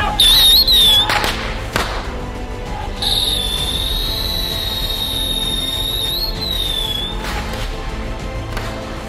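Firecracker rockets are set off outdoors: bangs crackle at the start, then a long, loud, high whistle screams for several seconds and fades, with a few thumps along the way.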